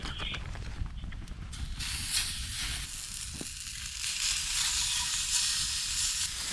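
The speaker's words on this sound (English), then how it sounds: "So we're gonna cook that steak." Steak sizzles over a campfire outdoors on a cold night, with a steady hiss and crackle that grows a little louder partway through, along with faint rustling and scraping nearby.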